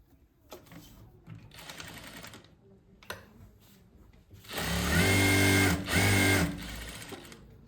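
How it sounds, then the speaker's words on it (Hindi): A sewing machine stitches trousers in a tailoring class, starting with short quiet bursts of clatter and then running in a loud, steady whirring stretch with a brief pause near the end, close up, with no talk. "अब इसकी पैंट की सिलाई कर लेते हैं।"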